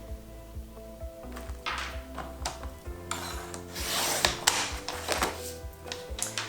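A 29.5 cm square is cut from a white album paper page. Dry rasping and rubbing strokes come in uneven bursts, growing louder and busier partway through, with no talking.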